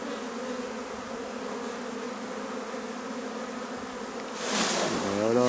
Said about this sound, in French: on peut prendre des paquets d'abeilles, les mettre directement, ou alors secouer un peu la grappe directement